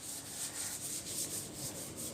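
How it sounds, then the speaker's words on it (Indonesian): Coarse grit-100 roll sandpaper rubs steadily, close up, during paint preparation on a 1981 Colt T-120, with even back-and-forth scraping strokes and no talk. "Nah, yang pertama ini amplasnya nomor 100. Nomor 100 ini lebih kasar."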